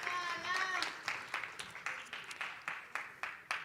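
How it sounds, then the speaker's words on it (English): Distant claps from a summit audience, sparse and uneven, growing more scattered after a brief opening of voice-like tones, fairly faint. "please give them a huge round of applause, Francina Kahungu,"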